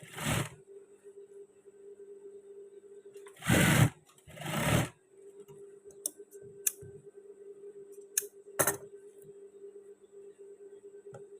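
A sewing machine stitching trousers runs in a few short bursts, the loudest lasting about a second. Scattered clicks and small handling noises come between the bursts over a quiet steady hum.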